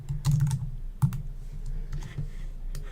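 Keys tapped on a computer keyboard while entering a name and link on a webpage, a few close, light clicks in a short uneven burst.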